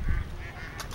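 Ducks on the pond in front of Shunxian Temple in Neimen, Kaohsiung, give a brief honking quack, a short close call over faint background hubbub.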